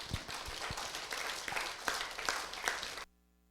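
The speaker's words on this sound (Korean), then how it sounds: "큰 환영의 박수 부탁을 드립니다." Welcoming applause for a lecturer at a philosophy forum, moderate hall clapping with a few louder individual claps, stopping abruptly near the end.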